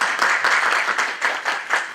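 A church congregation applauds steadily, dense overlapping claps at a loud, even level without a break, no voices on top.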